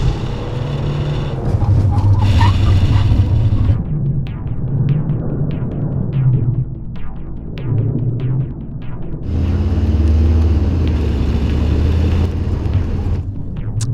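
An Audi A5 fitted with Eibach springs accelerates hard, its engine droning and rumbling loudly in two long surges with a brief easing between them.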